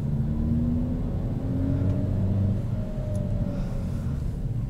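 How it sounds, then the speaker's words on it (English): A 2021 Kia Forte with a manual transmission pulls away from a stop as the driver gives a bit more gas, its engine a steady low rumble with a gentle rising whir, heard from inside the car without talk. "A little bit more gas, and you're moving."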